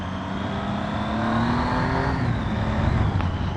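A steady mechanical whine from a running Triumph Tiger 800 motorcycle, straight-cut gear whir riding over the engine drone, with a slowly rising pitch that shifts mid-way.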